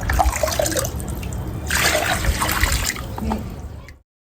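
Water splashes and gurgles steadily as it overflows into a lotus tub, a busy liquid rush that swells midway, with faint voices underneath before it cuts off.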